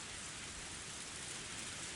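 Steady rain in the visual novel Higurashi When They Cry, a dense, even hiss of falling drops with no voices or other sounds.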